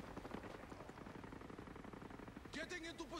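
Distant gunfire in Ghost Recon Breakpoint: a faint, steady crackle of rapid shots runs throughout, and a voice speaks over it near the end.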